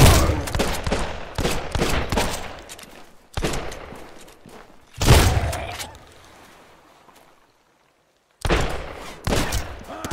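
Gunfire from an enemy shooter in Sunkenland crackles in rapid bursts, with a flurry of shots, then separate volleys fading into echo, a stretch of silence, and a final burst.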